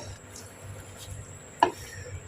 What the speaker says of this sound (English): We need to stir, so I'm going to stir to incorporate everything together.